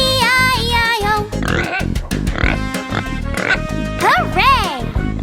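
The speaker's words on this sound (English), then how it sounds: "And on his farm he had a pig, E-I-E-I-O. With an oink oink here and an oink oink there" A cartoon pig grunts and oinks repeatedly in a children's farm rhyme, mixed with cheerful sung vocals and bouncy music, including rising and falling squealy oinks near the end.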